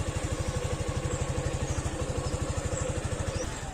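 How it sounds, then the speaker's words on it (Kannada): A motorcycle idles steadily while warming up after sitting unused for many days, its low engine pulse thumping in an even, rapid rhythm at close range with no talk over it. "ಇವಾಗ ಸ್ವಲ್ಪ ಗಾಡಿ ವಾರ್ಮ್ ಅಪ್ ಆಗಲಿ."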